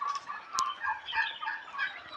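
A mixed backyard flock of desi chickens, turkeys, guinea fowl and geese gives steady, fairly faint clucks and chatter, with a brief sharp call near the start and no voices.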